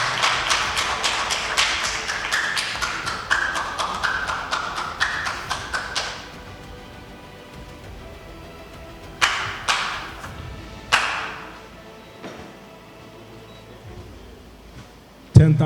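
Applause from an audience at a budget competition finale, with dense clapping for several seconds that then fades, followed by a few separate sharp claps and thuds later on.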